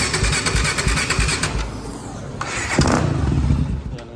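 An ATC 440EX three-wheeler with a 400EX big bore motor, on choke with the idle turned down, coughs and sputters into life, its uneven single-cylinder putter rising and falling close by.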